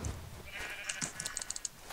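Sheep bleating in a video game, a wavering bleat near the middle followed by a quick series of sharp clicking game effects, all fairly faint and without talk.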